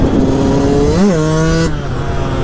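A Yamaha YZ 125 two-stroke motorcycle engine revs loud and close, its pitch dipping and then rising before settling into a steady high drone.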